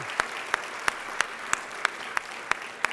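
Hand clapping at an awards luncheon, evenly spaced sharp claps in a steady rhythm, thin and close rather than a full roaring crowd.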